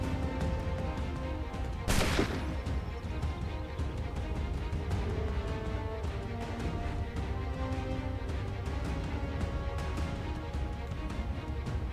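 A single sharp gunshot cracks out near the start inside the Assassin's Creed III video game, standing above a steady, busy background of game ambience and music that continues for the rest of the stretch.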